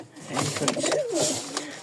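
Pigeons coo close by in a loft of Lotan and Rajshahi Giribaz birds, a soft throaty rolling call rising and falling for about two seconds, with faint human voices mixed in.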